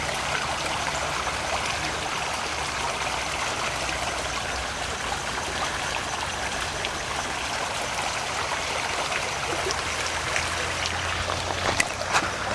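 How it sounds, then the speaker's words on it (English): Muddy runoff water pours steadily into a creek below a construction site, a continuous close rushing and trickling wash with no voices. "This is the mud coming right off it, right into the creek."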